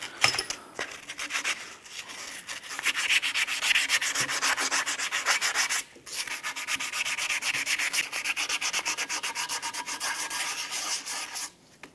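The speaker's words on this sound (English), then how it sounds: "I'm gonna use a little bit of sandpaper on the inside here." Sandpaper rubbed by hand inside the upper control arm mounting bracket of a 1994-2004 Chevrolet S10, a steady close scratchy rasp of rapid strokes lasting throughout, with one brief pause midway.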